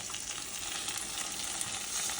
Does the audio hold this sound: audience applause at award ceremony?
no